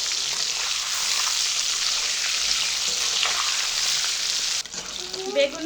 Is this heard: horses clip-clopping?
no